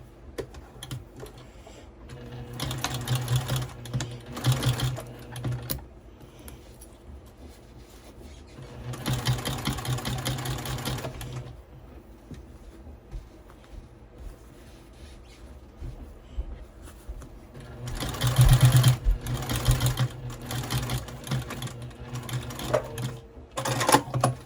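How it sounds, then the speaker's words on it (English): A sewing machine stitches a fabric gusset to a bag panel at a 5/8 inch seam allowance, running in several close bursts of rapid whirring with quiet pauses between them. "Continue sewing the remaining sides of the panel to the gusset with the 5/8 inch seam allowance."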